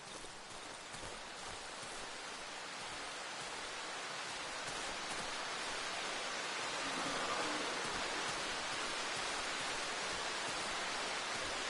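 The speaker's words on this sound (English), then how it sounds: "I think it's raining." Steady rain falls in the video game Darkwood, a dense, even hiss of drops that swells slightly toward the middle and holds on without pause, with no voices.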